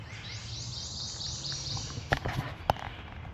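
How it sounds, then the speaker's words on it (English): A Prothonotary Warbler sings from cover in woodland: a faint, distant run of repeated high, bright notes over soft outdoor ambience, followed by a couple of nearby clicks or rustles. "That's a Prothonotary Warbler, and it's right over there, right in there."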